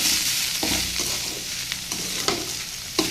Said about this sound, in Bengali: এই যে লাউটা কিন্তু ভাজতেছি